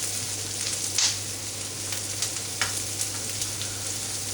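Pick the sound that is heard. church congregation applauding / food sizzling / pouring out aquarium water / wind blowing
food sizzling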